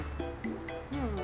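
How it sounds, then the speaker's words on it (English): A cartoon puppy yips and whimpers in a short run of high, bright, squeaky barks, close and fairly loud over a soft background bed. "It's a puppy."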